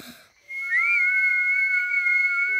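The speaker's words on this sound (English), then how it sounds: "Please, can you show me how to whistle again?" A single sustained whistled tone, steady and fairly loud with a slight upward bend near the start, held alone without talk in a children's cartoon about learning to whistle.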